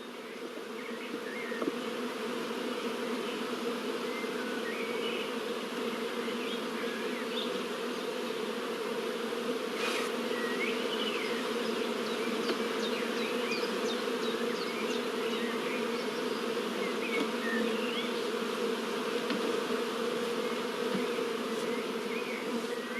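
Honey bees buzzing around a hive during queen rearing with a swarm box, a dense continuous drone of many insects close by, steady throughout with no talk.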